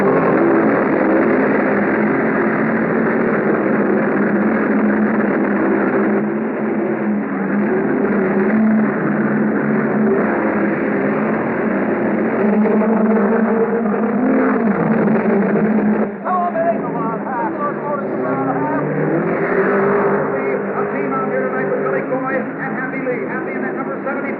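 Race cars roar off at the start of a 40-lap speedway main event in an auto racing drama film, a dense continuous engine drone heard under an announcer's steady commentary throughout.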